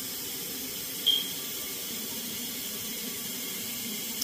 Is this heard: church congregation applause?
no